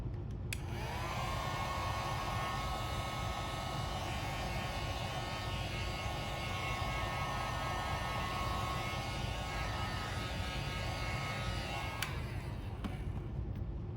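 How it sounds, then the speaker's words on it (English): A heat gun blows steadily on white spray paint for a 3D bloom effect, a loud continuous whooshing hiss with a whining tone that runs about eleven seconds, then cuts off near the end. "Let's see if I can heat the white up with the heat gun."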